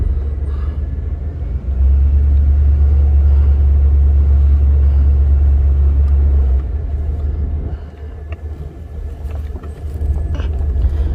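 An old American luxury car's engine idles up close with a steady, loud low rumble that deepens for a few seconds, then eases back to a softer idle.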